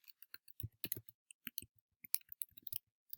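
Computer keyboard keys pressed one after another, including return and delete, sharp close clicks in an uneven rhythm against silence.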